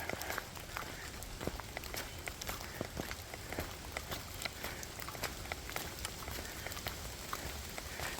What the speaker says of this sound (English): But yeah, see, it rained just a little bit.